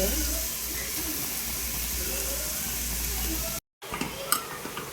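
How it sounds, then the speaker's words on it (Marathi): Grated carrots sautéing in ghee make a steady close sizzle as they are stirred in the pan, then a short cut gives way to scattered scraping and clinks from the stirring. "एक चमचा तूप टाकायचं याच्यामध्ये तुपात परतून घ्यायचं"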